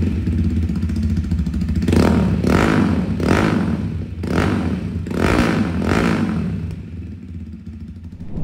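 A 200cc Zxmco motorcycle engine idles with a low rumble, then revs up sharply five times in a row, each burst rising and falling before settling back to idle.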